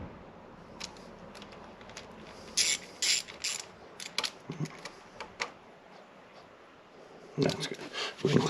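A ratchet clicks in short bursts tightening bolts on a 2020 CFMOTO 600 Touring during an oil change, close rapid pawl clicking in several separate runs, with quiet handling noise between them.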